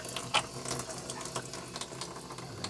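Water splashes and trickles against a metal tumbler as it is rinsed after laser engraving, with soft, irregular splashes running throughout at close range and no talking.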